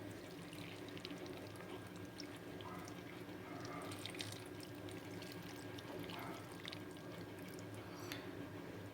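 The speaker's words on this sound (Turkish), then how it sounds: "Ve artık suyunu koyalım." Water pours steadily onto salted, cracked olives in a container, a faint, continuous stream of splashing liquid.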